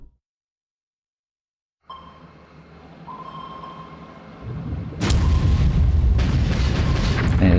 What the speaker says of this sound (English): There's that bombardment again.